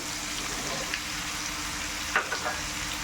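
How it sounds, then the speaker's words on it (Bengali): Papaya and carrot fry with chicken in a pan, giving a steady, close sizzle throughout, broken by a few brief clinks of stirring. "পেঁপেটা একটু শক্ত সবজি বলে আমি পেঁপেটা আগে দিয়ে দিচ্ছি। গাজর,"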